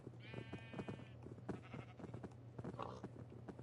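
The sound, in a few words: sheep bleating in Minecraft video game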